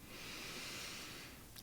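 A single long, slow inhale, breathy and soft, drawn in steadily, with a brief faint rustle near the end.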